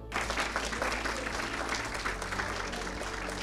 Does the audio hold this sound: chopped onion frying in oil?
no